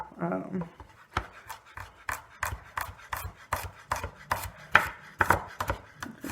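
Rapid, evenly spaced knife chops on a cutting board as fresh garlic is minced, a dozen or so crisp close taps in a steady rhythm, with a brief bit of voice at the start.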